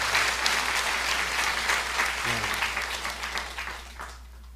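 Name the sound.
audience applause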